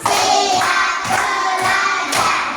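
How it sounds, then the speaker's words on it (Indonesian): A group of children in a classroom claps in a steady counted rhythm, four or five distinct claps at close range with little else around them. "Tepuk 1, tepuk 2, tepuk 3, tepuk 4"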